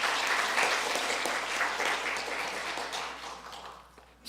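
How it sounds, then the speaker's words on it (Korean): A church congregation claps to welcome a new member during a service, a dense burst of applause lasting a few seconds before fading out. "박수로 환영하겠습니다."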